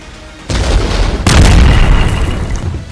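Bomb and missile strikes in an air attack on Gaza produce a sudden loud blast followed by a second, heavier boom that rolls into a sustained deep rumble.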